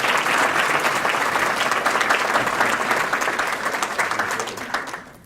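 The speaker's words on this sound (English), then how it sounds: "Let's give him a round of applause." An audience at a morning forum breaks into a loud, full round of applause for a speaker, dense clapping that holds strong and then tapers off toward silence at the end.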